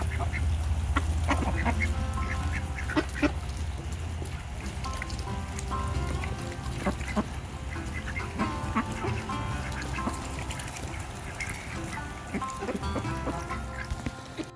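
Ducks and geese in a backyard flock quack and honk continuously at close range, a dense chorus of overlapping calls with sharper individual honks breaking through.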